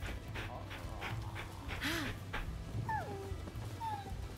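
A puppy in the video game Rise of the Ronin pants in quick, soft, rhythmic breaths, then gives a few short, high whimpers, all close and fairly quiet over faint background ambience.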